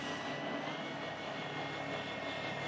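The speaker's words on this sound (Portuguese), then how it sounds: "Vou bater meu drone de reconhecimento." Recon drone in Warzone 2 giving a steady droning, engine-like whir that holds even and continuous, fairly quiet, with no voices over it.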